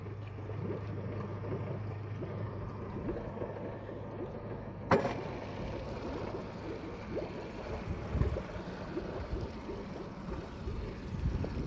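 A Yamaha outboard setup, a 2022 150hp inline four-cylinder EFI four-stroke with a 2022 9.9hp kicker, runs in a steady low drone with a faint rattle. Wind and water noise sit around it, with a sharp knock near the middle.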